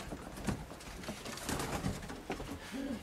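Soft, low pigeon cooing repeats over a steady rustling, fluttering background, like many pigeons indoors in an enclosed loft.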